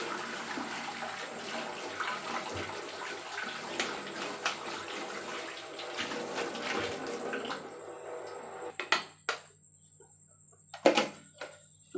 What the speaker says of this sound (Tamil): இப்போ நாம் இதிலேயே போட்டு கழுவிடலாம்.